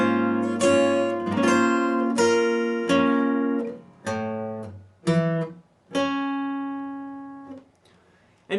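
Electric guitar slowly playing the verse of a song, ringing chord fragments and single picked notes with pauses between phrases, close and alone.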